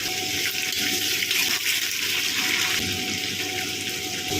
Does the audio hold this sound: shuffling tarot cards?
no